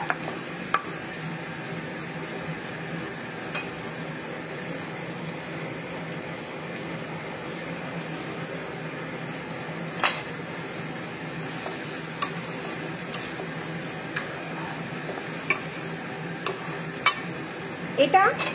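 Egg korma gravy simmers with milk added, a soft continuous sizzle with occasional spoon stirs and scrapes against the pot, fairly quiet and steady throughout.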